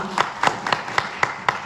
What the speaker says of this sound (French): Applaudissez pour madame.